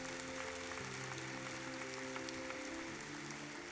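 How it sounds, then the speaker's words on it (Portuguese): A ceremony audience honouring the Brazilian legal profession at a national bar association event gives sustained applause, a dense steady wash of clapping running throughout over a low tonal hum. "vamos saudar a advocacia brasileira com uma efusiva salva de palmas"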